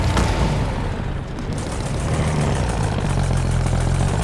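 A car engine in Fortnite gives a steady, loud, low idling rumble that holds without a break from start to finish, with no voices over it.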